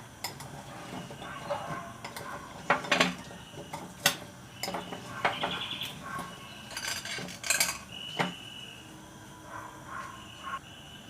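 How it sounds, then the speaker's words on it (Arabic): Fried dough pieces for a crisp eggless, milk-free dessert are flipped in a metal frying strainer over very hot oil, giving scattered metallic clinks and taps at close range with a steady sizzle beneath and no talking. "دلوقتي انا حاطاه اهو بس بقلبه في الشباك"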